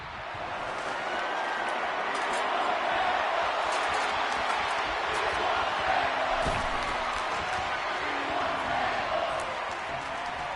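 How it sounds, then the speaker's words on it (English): A wrestling arena crowd at a no-holds-barred match yells and chants loudly and continuously, a dense roar of many voices with a few sharp slams and shouts rising over it. "the crowd yelling that they want tables here tonight"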